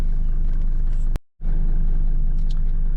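Heard from inside the cabin, a 1988 Mercedes-Benz E 250D W124 diesel with a four-speed automatic drives along with a loud, steady low rumble. The sound cuts out briefly for a moment near the start, then the drone returns.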